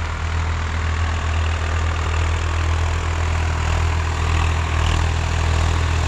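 A heavy diesel engine of a 2023 Swaraj 855 FE tractor chugs steadily at a low idle-like throb in a paddy field, close and constant with no talking.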